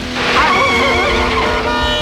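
A cartoon car skidding along a road with squealing tires, a loud, close, drawn-out wavering screech over engine noise lasting about two seconds.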